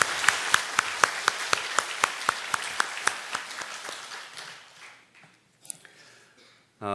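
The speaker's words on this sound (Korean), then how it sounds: "축하와 격려의 박수 보내주세요" A church congregation applauds in steady, evenly spaced claps that start strong, then thin out and fade within a few seconds, leaving near-silence and a brief tone at the end.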